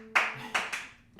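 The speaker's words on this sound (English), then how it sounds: "Practice your clapping." A few hand claps, three sharp claps in quick succession followed by a faint fourth, close and fairly loud in a quiet room.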